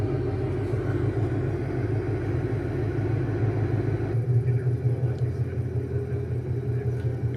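A 2024 Virginia State Police Mustang trooper car gives a deep, steady engine rumble that drops lower partway through, heard under people talking nearby.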